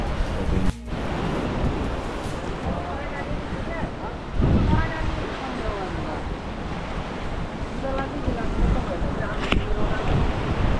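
Ocean waves and wind at Coco Beach in Dar es Salaam make a constant rushing wash with heavy wind buffeting on the microphone, and voices murmur faintly in the background.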